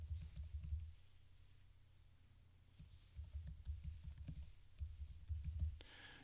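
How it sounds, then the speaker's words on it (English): Fingers typing an email address on a computer keyboard, quiet close key clicks in two or three short bursts separated by a brief pause, with no talking. "So I'm going to start typing"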